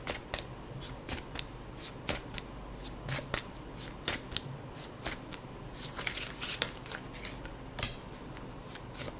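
Tarot cards shuffled by hand in a series of crisp riffling bursts and soft slaps, close and fairly quiet, with no talking.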